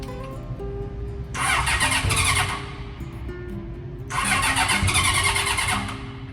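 A motorcycle engine is started from the ignition button twice during a troubled trip. Two loud, close bursts of churning starter and engine noise are separated by a short pause, over a steady low idle-like hum.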